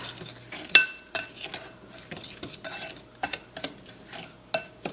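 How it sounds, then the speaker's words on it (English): Dry sugar and Pomona pectin being mixed for strawberry jam, giving a run of light scraping and clinking taps of a utensil against a bowl, irregular and close, with no talking. "you're gonna mix your sugar and your pectin"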